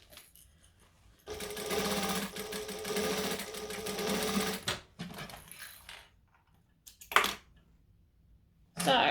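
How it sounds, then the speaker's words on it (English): An overlocker runs in a steady burst of whirring stitching on a jacket cuff for a few seconds, then stops, followed by short clicks and handling noises with brief restarts. "I am going to fix that in a second because we're going to overlock this"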